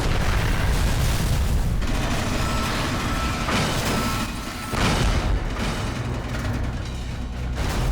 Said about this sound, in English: Buildings are shaken from their foundations.